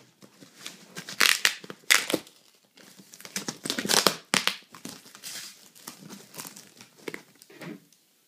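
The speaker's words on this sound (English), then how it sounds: "So we'll rip it." Plastic packaging around a UGQ topquilt is torn open in bursts of loud crinkling and ripping. Short pauses separate several rough crunching pulls, close up.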